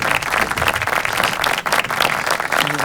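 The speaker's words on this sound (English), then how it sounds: "why are we not clapping for her?" A group claps in a casual room conversation, loud and fairly close, with irregular bursts of hand claps forming a dense, uneven patter for about three seconds and no speech over it.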